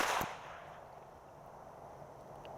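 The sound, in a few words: starter pistol shot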